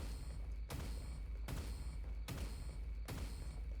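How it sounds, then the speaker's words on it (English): A pulse grenade in the action game Mo & Krill, sounding as four evenly spaced, punchy booming blasts about a second apart over a steady low rumble. "Pulse grenade"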